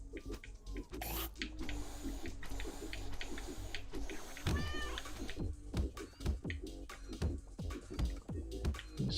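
The cat boss in the video game Turnip Boy Commits Tax Evasion gives a clear meow amid busy game effects, with rapid percussive hits and thuds around it.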